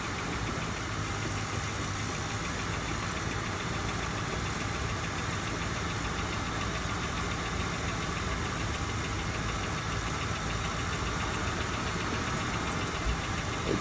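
An old police-auction car engine idles steadily just after being jump-started, a constant rough mechanical drone with slight knocking, close and continuous for the whole stretch, no voices.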